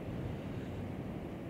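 Strong wind buffets the microphone on Blackpool beach after Storm Ashley, a steady loud roar of gusts mixed with surf, continuous and unbroken with no voices.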